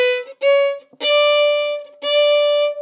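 Solo fiddle plays the second half of the B section of an easy dance tune, sustained bowed notes in three long phrases separated by brief gaps, close and clear with no talking.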